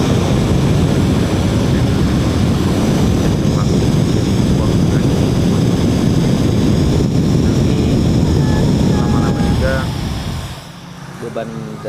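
An IETS vacuum laptop cooler fan blows hard and close, a loud, steady, rushing whoosh with a faint whine that holds for about ten seconds before dropping noticeably quieter near the end.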